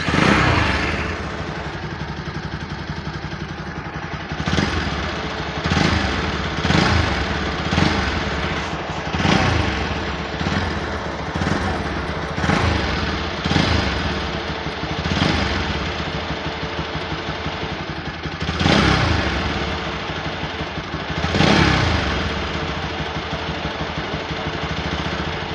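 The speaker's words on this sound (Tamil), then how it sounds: "இப்போ பைக்கை நம்ம ஸ்டார்ட் பண்ணி பார்ப்போம்" Motorcycle engine started and left running while a radiator fan fault is checked, a steady mid-pitched idle with repeated rhythmic surges and clattering bursts, close and loud throughout with no talk.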